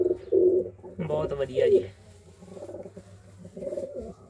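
Pigeons coo low and steadily among red Sari breeder pigeons, including a white-eyed female, while someone talks over them for most of the stretch.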